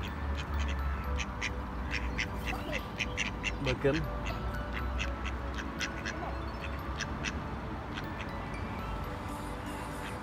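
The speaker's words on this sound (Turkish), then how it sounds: "Havuz parkın içerisinde kuşlar ve vazgeçilmez ördekler bulunmakta." Ducks quack repeatedly at a small pond in Mesnes Park, Wigan, mixed with other birds calling over a steady outdoor hum, while a person speaks briefly nearby.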